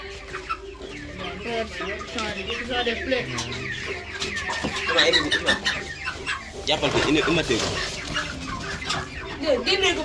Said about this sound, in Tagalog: Ito ang dami nilang manok.